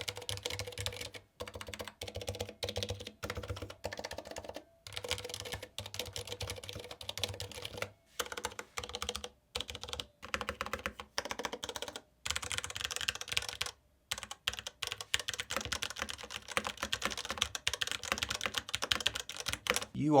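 Rapid, steady keystrokes on a Maya Pro gaming keyboard fitted with Cherry MX Silver linear switches, close up and continuous for about twenty seconds with brief pauses, no talking.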